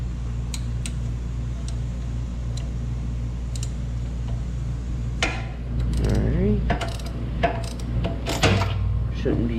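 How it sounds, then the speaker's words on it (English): Ratchet wrench clicking as it turns a bolt on a John Deere Z225 lawnmower, a string of sharp ticks and clacks up close over a steady low engine-like hum, with a voice talking briefly. "I'm gonna want to grab a ratchet wrench."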